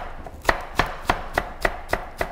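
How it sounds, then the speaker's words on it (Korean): Rhythmic knife chops of green onion (daepa) on a cutting board, eight crisp evenly spaced strikes, close and clear with no talking. "대파는 아, 이런 식으로 썰어서 송송 썰어주시면 되고요"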